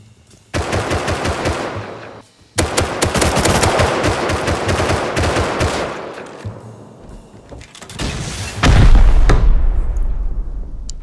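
Loud, rapid bursts of automatic gunfire and heavy explosions from a rocket raid in a video game, coming in long dense volleys with brief pauses and a deep boom near the end.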